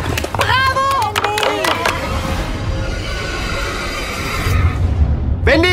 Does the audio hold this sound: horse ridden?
yes